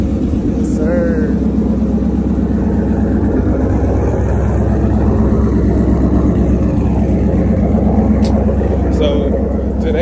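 Cammed Ford Crown Victoria engine running loud and close with a choppy, lumpy idle rumble that stays constant, as someone talks over it.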